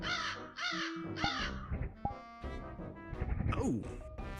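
A crow caws several times in loud, harsh bursts up close, mixed with other layered sounds and tonal noises in a busy scene, with some voice-like activity woven through.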